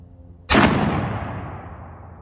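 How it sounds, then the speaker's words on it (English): A single loud 12 gauge shotgun shot firing a Browning BXS one-ounce sabot slug, a sharp close blast followed by a rolling echo that fades over about two seconds. "now we're gonna go and test the BXS 1 ounce slug"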